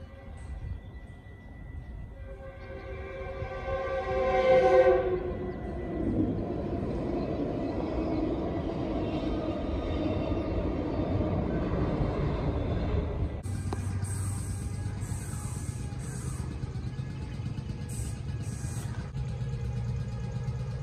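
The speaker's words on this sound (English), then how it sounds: "here comes Westbound Metro Link 321 Los Angeles 928." Westbound Metrolink commuter train passing, with a rising tonal horn-like sound early on giving way to a sustained, loud rumble and clatter of cars going by, continuing steadily to the end.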